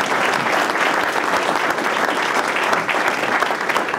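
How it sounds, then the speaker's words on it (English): An audience at a Connecticut gubernatorial forum applauds in a steady, dense burst of clapping that holds at even loudness for several seconds with no talk over it. "Again, ladies and gentlemen, another round of applause."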